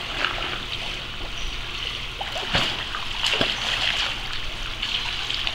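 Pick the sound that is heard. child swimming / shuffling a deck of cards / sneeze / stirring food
child swimming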